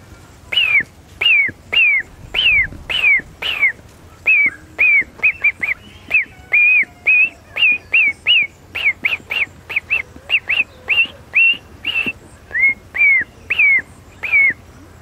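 A man imitates the call of a goose chick, giving a rapid series of high, whistled peeps, about three per second, clear and close with no other sound behind them.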